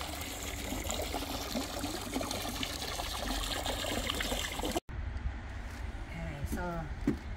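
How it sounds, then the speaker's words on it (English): Water pours in to top up a homemade garden pond, a continuous trickling splash that cuts out briefly, then resumes more softly while people talk. "Okay, topping up the water."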